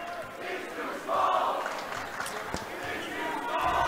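A crowd in a boys' high school basketball gym shouts at a player in loud, swelling waves, heard under a commentator's voice along with a few sharp knocks from the court.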